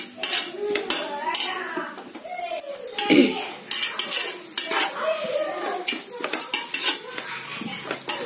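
A spoon scrapes and clinks against a pan while ginger garlic paste is stirred in for a Tamil country-chicken dum biryani, with repeated metallic scrapes and a soft sizzle underneath and a voice talking intermittently.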